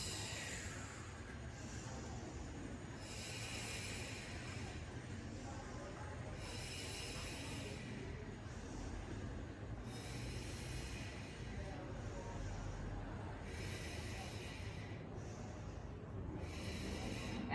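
Slow, deep breathing during a floor exercise class, with long broadband in-and-out breaths recurring roughly every three seconds, close and steady over a low constant background hum, no talking.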